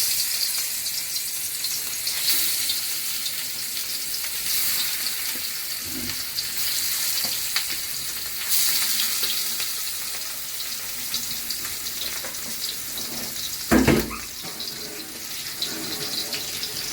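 Fish fries in a hot pan, giving a steady, dense sizzle that runs throughout with a few louder crackles and pops, close up and with no talking.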